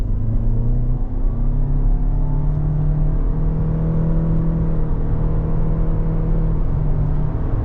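2025 Toyota RAV4 LE Hybrid accelerating in sport mode with paddle shifting, its engine a constant close rumble with a rising whir, heard alone with no voices.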